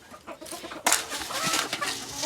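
A gamefowl rooster clucks in its pen: short, close clucks, then a louder burst of sound from the bird partway through, with no talking.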